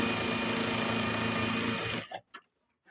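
A sewing machine stitching the lining of a coat runs in a fast, steady, close whir for about two seconds, then stops, followed by a few brief handling clicks.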